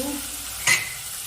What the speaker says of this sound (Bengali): এবার এর মধ্যে আমি চেরা কাঁচা লঙ্কা, দিলাম।